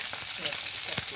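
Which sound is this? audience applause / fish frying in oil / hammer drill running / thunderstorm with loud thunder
fish frying in oil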